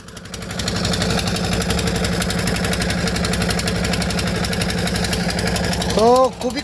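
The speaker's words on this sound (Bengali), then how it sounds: "হ্যাঁ, এখন পাম্পের স্পিড বাড়তেছে।" A soil-pumping motor runs loud and steady close by, its engine-like drone picking up speed, with people talking over it and a short whine near the end.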